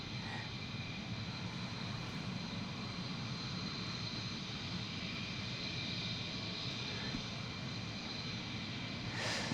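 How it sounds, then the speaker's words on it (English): F-15 fighter jets at RAF Lakenheath produce a steady, distant engine roar as they prepare to leave, a constant broadband rumble with no breaks. "having all of these F-15s literally getting ready to go"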